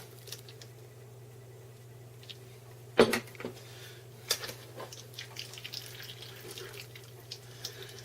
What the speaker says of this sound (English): I pour this into the strainer.